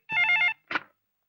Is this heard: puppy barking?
no